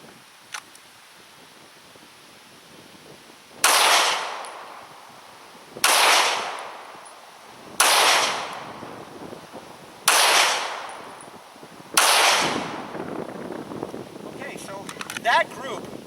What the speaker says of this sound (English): I'm going to shoot a target, move back to 7, shoot a target again